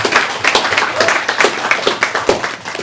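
Applause from an audience at a community marketplace panel, a steady wash of many hands clapping throughout, fairly loud and close.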